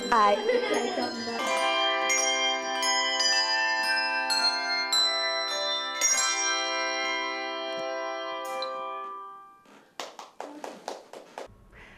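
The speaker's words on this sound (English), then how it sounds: "to conduct the bell choir" A handbell choir rings out a run of clear, sustained bell tones struck one after another, overlapping as they decay, then fading out before a burst of applause.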